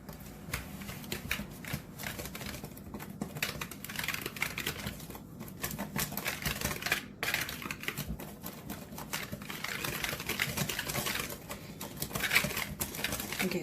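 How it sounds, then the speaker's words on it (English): A whisk scrapes rapidly around a bowl, mixing dry baking powder, salt and baking soda for a root beer cake; a steady, close, fine patter of tapping strokes continues throughout without speech. "we're going to whisk this together"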